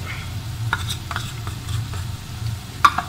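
Masala stirred in a pan after garam masala and pepper powder go in, a soft low sizzle with scattered scraping taps of a spoon against the pan, quiet and close, no talking.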